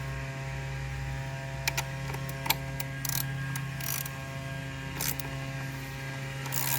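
Ratchet clicks in short bursts while tightening rear bolts on a KTM Duke 790/890 during a transaver install, sharp clicks over a steady mains hum, close and moderate in level.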